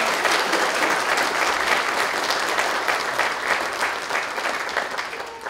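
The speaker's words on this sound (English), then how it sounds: "let's thank God and give them applause" Congregation applause in a Lutheran church, steady dense clapping from many hands sustained for several seconds, fading slightly toward the end with no voices over it.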